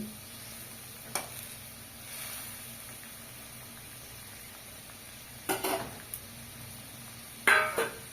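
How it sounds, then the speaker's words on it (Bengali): Pipuli greens cooking in a pan with only a radhuni tempering, a soft steady sizzle broken by a few sharp scrapes and stirring knocks. "শুধু একটু রাঁধুনি ফোড়ন দিয়ে আমি এই পিপুলি শাকটা রান্না করছি"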